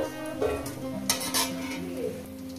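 Potatoes fried deep red, lifted from the pan with a spoon, giving quiet oil sizzle under a few light scrapes and clinks of metal against the pan.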